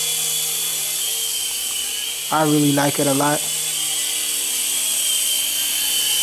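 A small toy helicopter flies indoors, its steady high rotor whine droning continuously throughout, with a brief spoken phrase from a man over it partway through.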